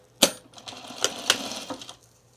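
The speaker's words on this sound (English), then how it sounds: "we're gonna put these right sides together and sew the seam 1/4 inch" A sewing machine stitches a quarter-inch seam on an oven mitt, a few quiet, sharp mechanical clicks and short whirring bursts close to the microphone.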